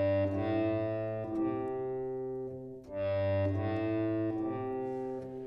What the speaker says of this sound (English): I added a reverb to this, and it's a lot of reverb.